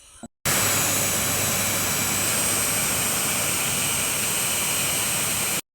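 An AGARO Regal vacuum cleaner switches on and runs with a loud, steady whooshing roar and a thin high whine, then cuts off abruptly at the end.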